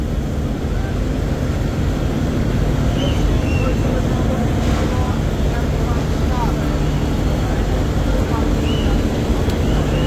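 The M Khan 7 passenger launch draws near on the river at Barishal, its engine a heavy, steady low rumble mixed with wind and water noise.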